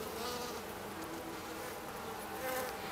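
Honey bees buzz steadily at close range around a hive frame during a springtime hive inspection, forming a dense continuous hum with no speech.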